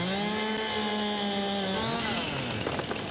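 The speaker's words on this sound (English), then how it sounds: "when you do your chainsaw test, you have to have a tree hung up." A chainsaw cuts a hung-up tree in Farming Simulator 22, its engine whining steadily at a high rev before dropping and sputtering as the cut ends, close and alone.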